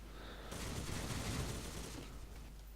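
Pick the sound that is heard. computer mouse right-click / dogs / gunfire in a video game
gunfire in a video game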